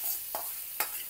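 A tempering of coriander, cumin, mustard seeds and turmeric fries in hot oil with a soft, steady sizzle, broken by two brief crackling bursts.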